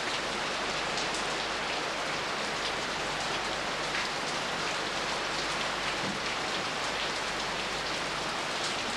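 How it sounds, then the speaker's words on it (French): Heavy monsoon rain pours down steadily at the temples of Angkor, Cambodia, a dense, continuous hiss of drops hitting surfaces with no letup and no voices. "Les pluies de la mousson détruisent tout sur leur passage."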